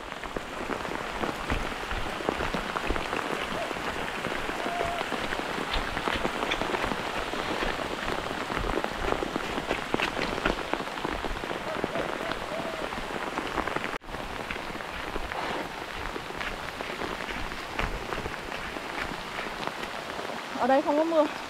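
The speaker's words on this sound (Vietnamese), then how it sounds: "Mưa rồi các bạn ơi." Rain falls steadily in a rural hometown, a continuous close hiss of drops pattering on surfaces that lasts throughout, with faint voices beneath it.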